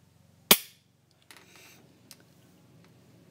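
A single pistol shot cracks out sharp and loud, with a short decaying tail. Softer mechanical clicks and rustles follow at a lower level.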